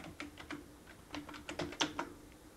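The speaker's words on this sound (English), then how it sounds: "then I'm going to type in the password that's set for it" Quick, uneven keystrokes on a computer keyboard as a password is typed, about a dozen soft clicks heard close up with no talking.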